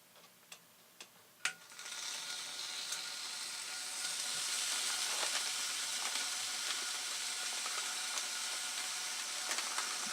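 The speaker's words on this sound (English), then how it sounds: "Hear that sizzle going on there" Canadian bacon sizzles in a frying pan for eggs Benedict, a steady close hiss that swells after a few ticks and clinks at the start and carries on with faint crackles.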